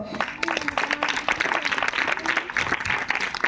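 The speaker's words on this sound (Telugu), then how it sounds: "ఈ సత్యం కొరకు ఒకసారి చప్పట్లు కొడతారా?" An audience at a church meeting breaks into clapping, a busy spread of quick hand claps rising and continuing at a steady level across the room.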